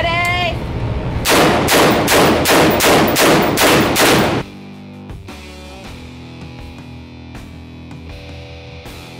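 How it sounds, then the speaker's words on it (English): Direct impingement AR-style rifle fired in its stock configuration: a rapid string of about eight loud, sharp shots in even rhythm, followed by a quieter ringing tail with faint background noise. "Our first test was shooting the rifle as is out of the box."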